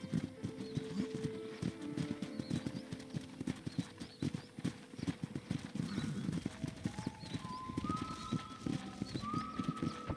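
Horse hooves clip-clop steadily and close by during a ranch tour in a western video game, a continuous trotting rhythm with occasional whistling tones and faint bird calls over it.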